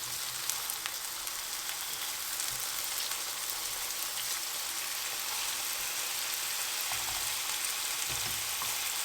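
Minced chicken cutlets, spicy, fry in a covered pan with a steady broadband sizzle and crackle throughout, close and even, with a few louder pops near the end and no talking.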